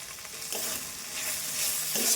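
A spice paste with green chilies and turmeric sizzles in a pan, a bright continuous hiss that swells slightly as it is stirred, close and unaccompanied by speech.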